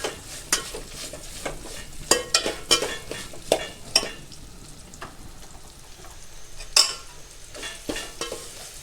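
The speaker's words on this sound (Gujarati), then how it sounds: "ધીમા ધીમા તાપે તેલમાં એકદમ કડક થઈ જાય રોટલી, સરસનું કડક ત્યાં સુધી હલાવી નાખીએ" Roti pieces fry in oil over low heat and are stirred, giving a soft sizzle under repeated sharp scraping and clinking strokes of a spoon against the pan at an irregular rhythm.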